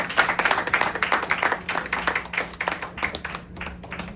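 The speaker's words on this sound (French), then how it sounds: "acclame très fort le Seigneur ce matin" Church congregation clapping hard in a morning worship service, dense continuous applause with sharp claps throughout, close and loud.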